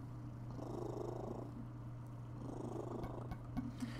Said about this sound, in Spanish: Hace prrr el gato.